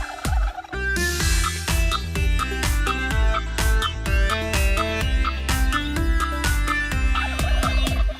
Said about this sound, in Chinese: 一只火鸡咕噜咕噜咕噜咕噜咕噜咕噜咕噜